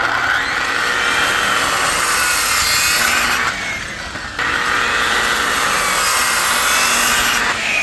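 A saw rips lengthwise through a pressure-treated 4x4 post being notched for bench legs, a loud continuous grinding rasp that briefly drops off mid-cut before resuming at full strength.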